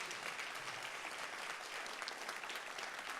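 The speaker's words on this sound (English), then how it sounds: "give this man a clap" An audience claps steadily for a man at a keynote session, a dense, even wash of applause that holds at a moderate distance throughout with no talk over it.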